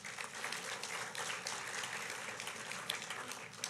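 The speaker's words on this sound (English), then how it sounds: "Let's give them a round of applause." Audience at a U.S. Delegate debate hosted by the Saipan Chamber of Commerce applauding, steady moderate clapping from a hall crowd, slightly distant and continuous.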